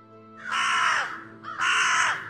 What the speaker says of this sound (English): More loud birds.